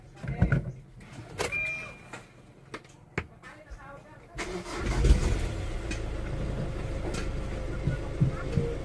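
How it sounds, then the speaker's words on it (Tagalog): A Hyundai Accent CRDI with a steering fault gives sharp, irregular clunks and knocks, then its engine starts and idles steadily close by, with voices talking intermittently over it. "Ayan, lakas ng lagatok."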